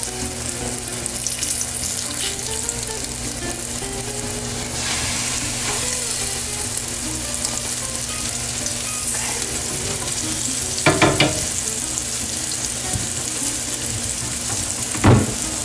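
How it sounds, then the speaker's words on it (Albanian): Floured sea bass fillets fry in hot oil in a pan, giving a continuous crackling sizzle throughout, with a few brief louder spits and clatters now and then. "Ta le që të skuqet 3 minuta në çdo anë që të marrë atë ngjyrën gold."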